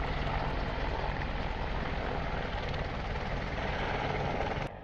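Continuous roar of an Apache attack helicopter, a loud, steady rotor and engine drone with no breaks, ending abruptly.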